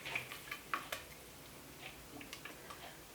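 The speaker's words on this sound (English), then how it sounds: "we're going to stir in a 1/2 cup of peanut butter" A spoon stirs peanut butter and vanilla into a warm no-bake cookie mixture in a pot, making soft irregular clicks and scrapes against the pan, faint and close with no talking.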